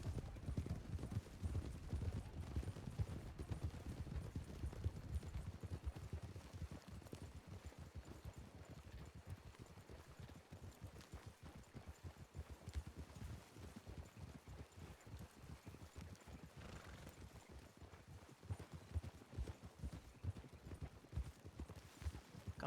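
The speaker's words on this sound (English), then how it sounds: "Slowing down towards a canter." A horse's hooves clip-clop steadily on the ground in a video game, beginning brisk and easing into a slower canter rhythm, faint and continuous throughout.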